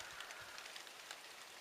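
Light rain begins to fall outside an open kitchen window, a soft, faint continuous hiss of fine drops with no talk over it.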